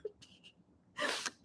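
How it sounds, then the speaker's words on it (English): A single sharp human sneeze follows a couple of faint preparatory breaths, close and fairly quiet, heard alone. "I have to sneeze."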